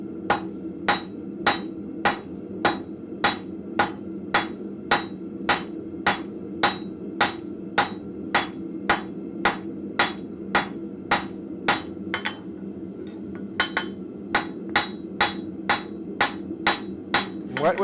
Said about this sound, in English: we're going to start in the center with our cross peen and hopefully actually hit the piece